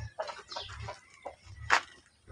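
Several short clucks from backyard chickens close by, uneven and spaced out, with a faint low rumble underneath.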